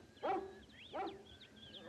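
A small dog yips and barks in two short bursts, close and fairly loud, with faint whimpering between them in a film comedy scene.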